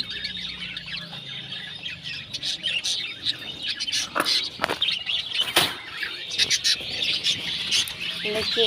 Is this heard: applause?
no